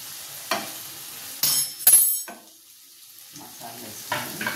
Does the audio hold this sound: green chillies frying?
yes